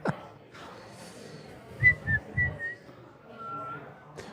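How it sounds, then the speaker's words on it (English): Cheerful whistling right into a microphone, a few short bright tunes close and clear, with soft breathy bumps and mouth noises in between. "Cheerful whistling."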